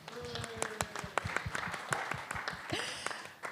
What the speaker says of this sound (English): Let's give Aya a round of applause.